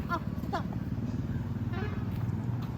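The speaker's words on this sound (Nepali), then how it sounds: "मोटरसाइकल लाग्यो" A motorcycle in Nepal runs with a low, steady engine rumble throughout, while voices talk over it in short bursts.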